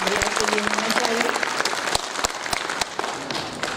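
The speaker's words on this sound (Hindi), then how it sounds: "तो एक बहुत जोरदार ताली हमारे भैया के लिए होना चाहिए।" An audience at a Parshuram Jayanti gathering breaks into sustained, dense applause, many hands clapping loudly and steadily throughout with a few sharper claps standing out, and a voice faintly heard beneath.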